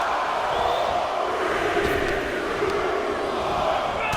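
Wrestling crowd in WWE 2K25 during a Survivor Series WarGames cage match, a dense, steady roar of many voices chanting a countdown, loud and continuous throughout.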